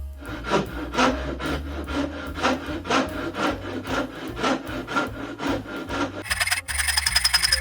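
Cutting a slit into the end of a handmade wooden stool leg for a wedge, a steady rhythmic rasping saw stroke repeating close up, shifting at the end to a brighter, faster scraping.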